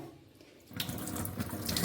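Water poured to rinse hair dye, a sudden steady rush of running water starting partway through after a quiet opening, close and continuous, with no voices.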